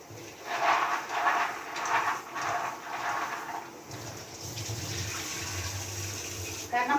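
Soya chunks being rinsed in water in a home kitchen, with water splashing and running steadily close by for the whole stretch and a brief louder gush near the end.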